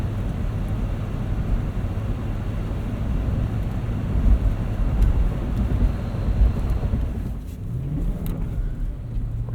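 Lexus GX 460 on Cooper Discoverer AT3 4S all-terrain tires pushing through deep snow, a steady loud engine and road roar with wind buffeting, swelling slightly midway, no voices.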